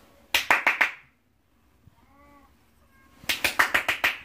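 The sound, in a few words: hand clapping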